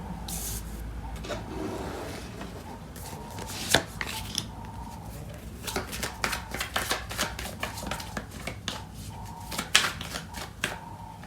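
Tarot cards are shuffled and handled at close range, making a run of crisp riffling and tapping bursts, some sharper knocks, over a low background hum and with no speech.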